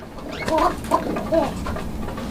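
A male fancy pigeon calls to a female in three short, tonal coos spaced about half a second apart, fairly close, over a low background hiss with no talk.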